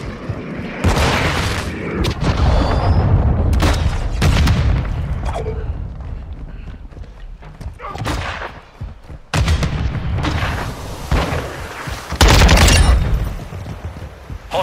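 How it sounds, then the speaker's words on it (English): Cruise missile strikes in Call of Duty MWII online multiplayer: a rapid series of loud, booming explosions and heavy blasts roll one after another over sustained gunfire, with brief lulls between bursts. "Hostile cruise missile incoming"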